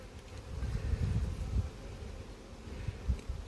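Wasps buzz steadily around a beehive in an apiary, low droning wingbeats close by with slight swells, no voices over it.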